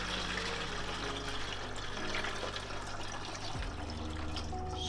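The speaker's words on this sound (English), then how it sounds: "all you do is pour all of it into your fixer bottle that's labelled up" C-41 photographic fixer chemical poured from a container into a labelled fixer bottle, a steady continuous liquid stream with trickling and splashing, close and fairly loud, with no talking.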